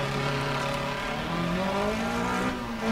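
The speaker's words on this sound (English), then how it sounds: "Testing the handbrake." Rally car engine in the Dirt Rally 2015 video game during a handbrake turn, a steady high-pitched engine drone that rises slightly in pitch over about three seconds, loud and close with no speech.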